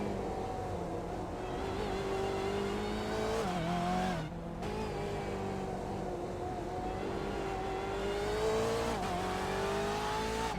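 BMW GTE race cars at Okayama circuit roar continuously at high revs with a shifting engine pitch, and brief gear changes break the near, loud, steady drone. No one talks.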